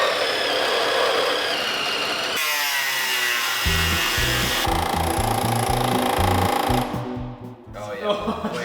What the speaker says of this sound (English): We're just gonna cut them off.